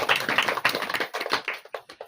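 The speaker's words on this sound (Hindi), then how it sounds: "वो दीदी के लिए ताली बजाएंगे" An audience at a Hindi church sermon claps together in a brief burst that quickly thins out into a few scattered, fading claps.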